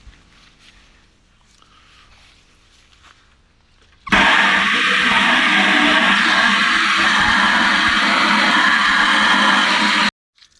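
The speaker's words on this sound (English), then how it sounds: "then we add water" After a few quiet seconds, water suddenly gushes into a bucket for watering a young tree, a loud, steady rush for about six seconds, then stops abruptly.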